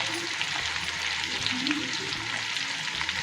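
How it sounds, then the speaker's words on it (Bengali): Vegetarian pumpkin curry with tomato, ginger paste, green chilli, turmeric and spices fries in a pan, a continuous close sizzle with soft stirring scrapes and no voices. "ভালো করে নেড়ে চেড়ে নেবে।"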